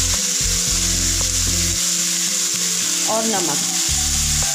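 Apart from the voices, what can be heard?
vegetables frying in oil with turmeric and salt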